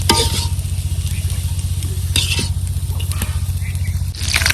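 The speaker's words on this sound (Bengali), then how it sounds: "এখানে কই মাছ ভাজা হইতেছে" Steady, loud sizzling of koi fish frying in hot oil, a continuous crackling hiss with occasional spattering pops throughout.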